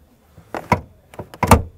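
Doors on a Suzuki Jimny 5 Door being shut, a few close dull thuds and clunks with short latching clicks spread over under two seconds.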